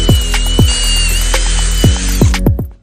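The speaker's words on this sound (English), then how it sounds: "Usually grab your drill with the 3/16." A power drill with a 3/16 bit bores into an ACM aluminum composite panel, giving short whirring bursts with sharp ratcheting clicks as the bit catches, several quick pulses close by and no talk.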